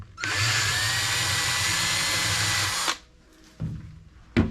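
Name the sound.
power drill drilling out metal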